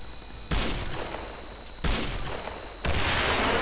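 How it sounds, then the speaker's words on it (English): Bursts of gunfire in the shooter game S.T.A.L.K.E.R.: Call of Pripyat, three loud sustained volleys of rapid automatic fire separated by brief quieter gaps, with no talk. "I'm still being shot at."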